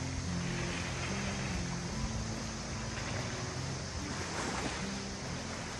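Waves at high tide on a windy beach by a forest campsite, a constant loud roar of surf with buffeting wind noise on the microphone and no voices.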